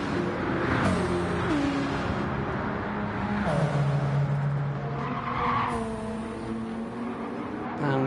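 A race car at the Sao Paulo round of an endurance race brakes hard into a corner, tires skidding and squealing loudly over a sustained engine roar, with faint commentary underneath.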